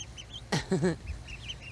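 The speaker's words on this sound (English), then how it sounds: "On my way back there, I'll show you the duckies." Several small ducklings kept outdoors in a garden give a short burst of soft quacking calls, with faint bird chirps and peeps continuing quietly around them.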